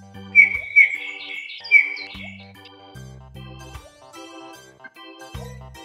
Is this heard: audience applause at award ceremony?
no